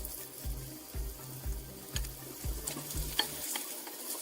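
Chicken fries and sizzles in a pot for mandi while being stirred, with a spoon scraping in a steady rhythm of about two strokes per second over a quiet hiss, close and without speech.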